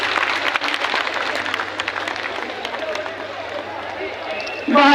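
Applause from the audience at the inauguration ceremony of the seven-storey Swarved Mahamandir in Varanasi, a dense, steady wash of clapping that ends with a short sound at the close.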